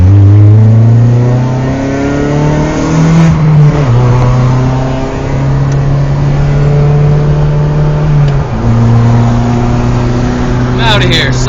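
A car engine drones loud and close from inside the car, holding steady revs through the gears with a brief shift and rising pitch, loud road and engine noise throughout.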